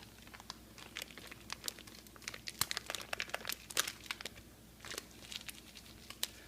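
A Ziploc plastic bag crinkles and crackles in quick, irregular bursts at close range, used for a pineapple Dole Whip mixture, with no voices.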